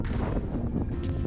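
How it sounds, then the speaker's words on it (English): Steady desert wind rumbling against the microphone at an off-grid RV site in Quartzsite, Arizona, a low continuous buffeting with no voices. "It is windy up here"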